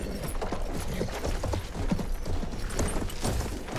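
Horse hooves clip-clop steadily at a walking pace in the video game Battlefield 1, close and fairly loud, with faint mechanical creaks and rattles mixed in.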